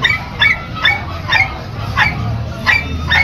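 A dog at a Sunday grotto gives a rapid series of about eight sharp yips and whimpering barks, evenly spaced and loud, over a low background rumble.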